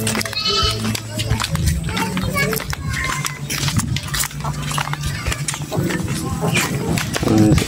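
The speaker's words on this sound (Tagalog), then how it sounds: "yan yung mga kambing natin" Goats kept on a small farm bleat now and then in the background while people talk over them throughout, with other farmyard noise mixed in.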